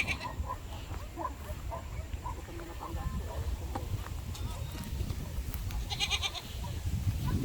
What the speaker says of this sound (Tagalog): Gutom yung kambing.